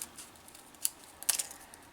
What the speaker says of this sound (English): Take my scissors and I'm cutting straight over here first